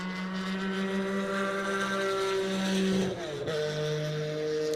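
A Chevron race car at a classic 24-hour endurance race at Daytona roars past on the track, a steady high engine whine that dips sharply as it passes, heard at moderate distance without talk.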